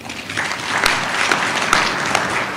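A crowd at the University of South Africa spring graduation ceremony in Ethiopia claps in a round of applause, steady and fairly loud, with a few sharper individual claps standing out from the mass.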